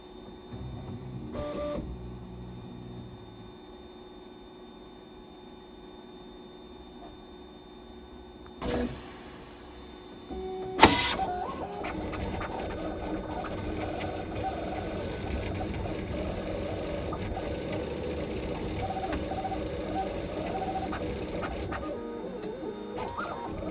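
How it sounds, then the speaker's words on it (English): An Anycubic Kobra S1 Max 3D printer at work: a quiet stretch with a few clicks and knocks, then a sharp bang and a steady whirring motor hum with tonal stepper whine that carries on to the end. "Printing away, done in just under 15 minutes."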